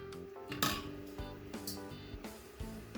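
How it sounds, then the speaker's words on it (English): A spoon stirs dry yeast and sugar in a bowl while making traditional Romanian Easter bread, giving a few clinks and scrapes against the bowl over a faint steady tone. "I'm gonna mix this to melt the yeast."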